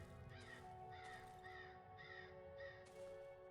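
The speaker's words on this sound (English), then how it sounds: "I know that was a crow, but that's a new sound." Crow cawing in the horror video game Darkwood, several harsh caws repeating in a loose rhythm over a steady low ambient drone, fairly loud and alone.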